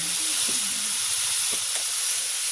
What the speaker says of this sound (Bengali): এখন এটা সুন্দর করে কষিয়ে নেব।